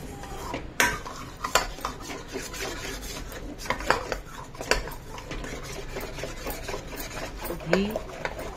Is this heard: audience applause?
no